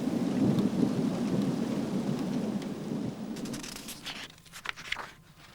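A fierce thunderstorm with steady heavy rain hissing throughout, deep rolling thunder rumbling underneath and fading, then sharper crackling bursts near the end.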